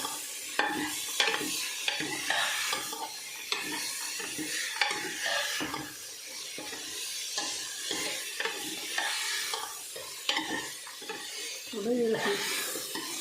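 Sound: frying peas in a pan for salted rice pulao

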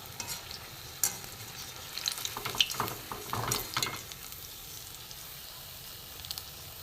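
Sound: mango fritters frying in oil

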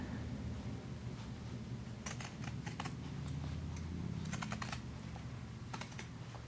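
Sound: pinking shears cutting fabric

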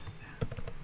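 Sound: typing on a computer keyboard

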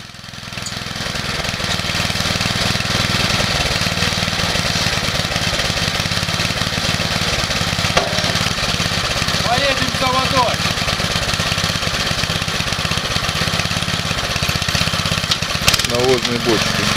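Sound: homemade tractor engine running, walk-behind tractor motor

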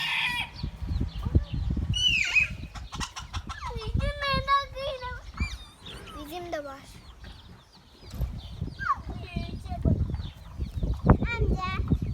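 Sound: chickens clucking in the coop

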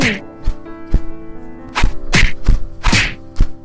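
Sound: fight sound effect, blows

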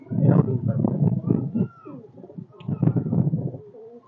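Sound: pigeons cooing

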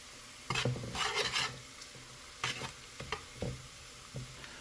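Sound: ginger and garlic sautéing in a pan

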